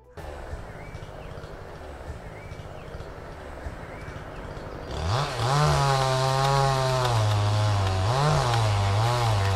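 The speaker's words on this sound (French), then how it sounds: "ce bûcheron et sa tronçonneuse méritent la médaille d'or" A lumberjack's chainsaw bites into a gigantic tree trunk, felling it between two tightly spaced fence posts; after a few seconds of low background noise, the saw roars in loud and close, its engine pitch rising and dipping as it cuts.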